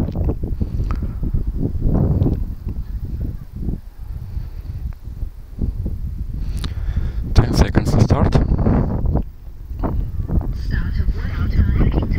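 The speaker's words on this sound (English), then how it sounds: "this breeze from the east continues" Easterly breeze buffeting an outdoor microphone at an F5J electric glider competition field in Slovakia, a steady rumbling wind noise throughout with intermittent gusty bursts, while people talk over it.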